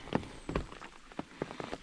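Light rain patters on a surface along a coastal hiking loop, soft scattered drops in a faint, brief stretch with no voices.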